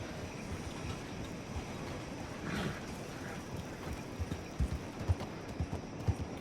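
Horse hooves clip-clopping in a video game, a faint irregular patter of steps that grows into a few sharper, louder hoof knocks near the end, with no voices.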